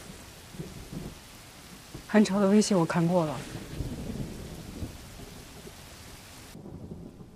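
Rain falls with thunder in the background, a low steady rumble and patter under a voice speaking in the middle.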